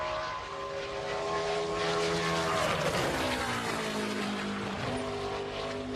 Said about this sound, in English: You can just hear the throttle pick up so early in the corner